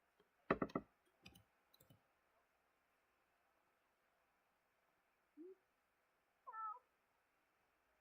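A Sims 4 male calico cat gives two short meows in an otherwise quiet room, the first low and brief, the second higher and rising, after a few soft clicks at the start.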